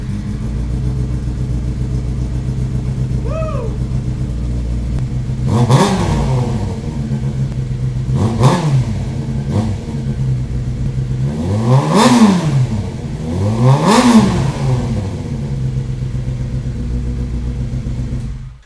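A Yamaha R6 motorcycle fitted with a shorty exhaust pipe idles with a steady low burble, then is revved sharply three times in quick bursts that rise and fall, loud and close, with no talking.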